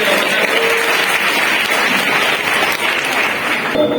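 Audience at a mushaira poetry recital breaking into loud, sustained applause, dense clapping filling the room throughout with faint crowd murmur underneath.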